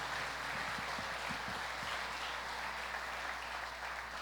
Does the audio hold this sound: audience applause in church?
yes